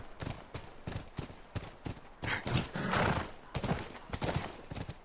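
Horse at a ranch in The Last of Us video game, several quick hoof clip-clops in bursts with a whinny near the middle, moderately faint and heard alone.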